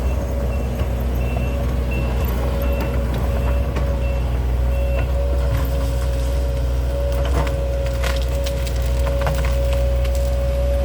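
A heavy Sumitomo SH130-6 excavator engine drones steadily nearby during land clearing, loud and continuous, with a faint mechanical whine and occasional clunks over the low rumble.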